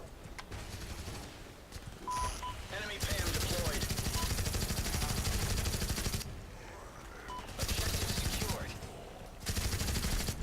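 Gunfire in the video game Dead Alliance: rapid bursts of automatic fire in several long stretches separated by short pauses, loud and dense, with faint talk in the gaps.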